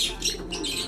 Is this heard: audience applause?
no